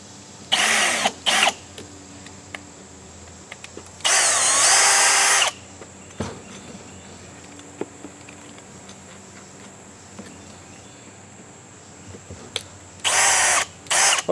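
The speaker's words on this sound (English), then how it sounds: "Okay, we're gonna display the hammer drill." Milwaukee M18 Fuel hammer drill, model 2704-20, fitted with a 1/4 inch bit, whirring at close range in short bursts of about one to two seconds separated by quiet pauses, with light clicks and handling noise between runs.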